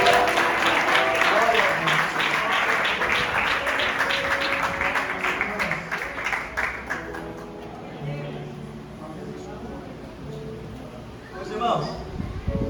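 Church congregation applauding, a dense rhythmic clapping with music underneath that fades out partway, leaving quieter hall ambience and a brief later burst.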